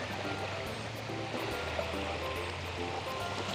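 Sea water surging at super high tide on a Boracay beach at dawn, a steady rushing wash of waves close by with no voices.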